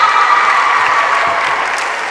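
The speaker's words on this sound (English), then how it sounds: "Nice crowd in the Thunderdome tonight, supporting their teams" Crowd applauding in a gym during a high school girls volleyball game, loud and steady clapping throughout with a dense even texture.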